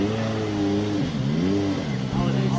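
Petter Solberg's WRX Supercar Polo revs hard at the SIMOLA Hill Climb 2023, loud and close, its engine note climbing and falling in repeated blips with a voice talking over it.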